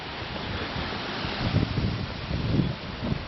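Steady roaring wind buffets the microphone outdoors in Calgary, with heavier gusts rumbling in the second half and no voices.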